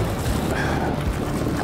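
Wind buffets a fishing boat out on the water with a steady, loud, low rumbling gust that fills the whole moment.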